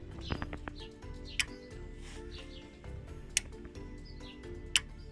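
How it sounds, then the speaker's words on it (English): Three sharp, isolated clicks of a light bar relay on a Nissan Navara D40, spaced a couple of seconds apart over a quiet background, with a faint rattle near the start. "clicking the relay"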